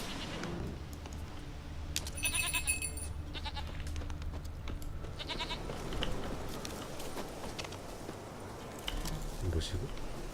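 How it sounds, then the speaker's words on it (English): A goat bleats in The Witcher 3 game, a few short bleats over steady background ambience and music, with a character's voice speaking nearby. "Here, goat."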